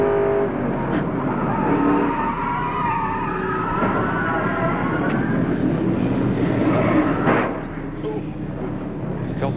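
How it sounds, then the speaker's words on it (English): A race car at the 1996 Nazareth Speedway Meridian Advantage 200 accelerates on the throttle, its engine a loud, sustained roar that holds steady before easing off near the end. "Listen to Randy Porter's car. You'll see here, he's on the throttle when this happens"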